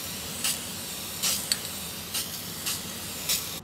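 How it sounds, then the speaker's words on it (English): A can of spray paint is sprayed onto a basic frame for a birthday party craft, with several short hissing bursts and pauses between them, close and fairly loud. "Now we go ahead and spray."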